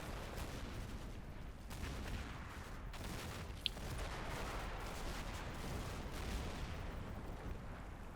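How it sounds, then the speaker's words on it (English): Distant mortar fire in a snowy wartime strategy game, with scattered muffled thumps and crackling bursts over a dull rumbling background, fairly faint throughout. "Some of those mortars seem way off."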